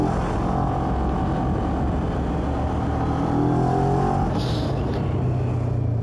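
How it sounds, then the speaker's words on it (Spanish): A CF Moto SR250 motorcycle rides through city traffic, its steady engine drone and road rumble filling the background with a constant hum and a slight rise in revs toward the end. "Mira, aquí nuevamente en el tráfico."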